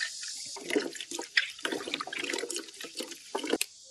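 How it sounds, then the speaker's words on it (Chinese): Green beans are washed under running water at a sink: a soft, uneven splashing and trickling, with small rattles and knocks as the beans are handled, fairly quiet and close. "豆角摘好以后，把它清洗一下。"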